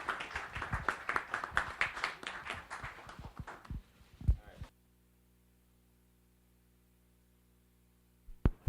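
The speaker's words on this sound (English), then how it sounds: "Lewis, please give him a round of applause" Applause at a conference on ending mass incarceration, a burst of dense clapping for several seconds that thins and stops midway, followed by near silence.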